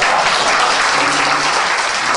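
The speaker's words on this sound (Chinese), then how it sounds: "我哋為余佩文同學鼓掌。" A room of classmates at a 40th anniversary school reunion for St Paul's College Class of 1969 gives a classmate a loud, dense, steady round of applause, with voices faintly mixed underneath.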